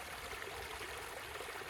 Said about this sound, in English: Little waterfalls, little pools. I think I even see a little trout in this stream.